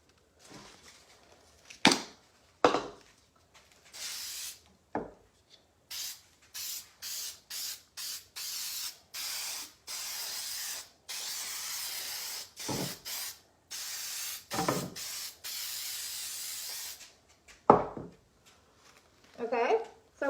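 Adhesive spray hisses onto decoupage tissue paper for drawer lining in repeated bursts, some short puffs and a longer run of rapid sprays, each sharp and close against a quiet room.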